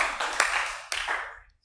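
A handful of people clap briefly in a church, a few sparse claps in two short bursts that die away into quiet.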